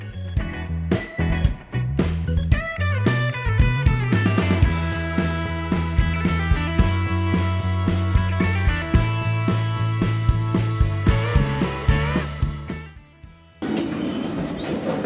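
Inside a metro train in Izmir, Turkey, a steady rumbling ride with rhythmic clacking over rail joints and tonal motor whine, loud and close, shifting to a hissier noise near the end without talk.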